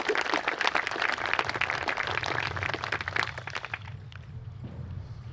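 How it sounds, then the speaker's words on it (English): Crowd at a high school groundbreaking ceremony applauding in a dense, lively burst of many hands, strong at first and then thinning to a few scattered claps as it fades out. "Thanks for the claps"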